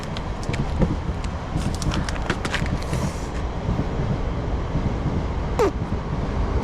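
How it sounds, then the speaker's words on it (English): Trains run along a busy main railway line, a steady broad rumble with wind noise and faint creaks throughout, the passing traffic continuous rather than distinct, with no talk. "You can hear the trains behind me."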